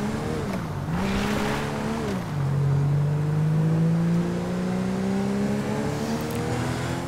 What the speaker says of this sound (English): that guy right there in front of me is kind of like sped up and going really fast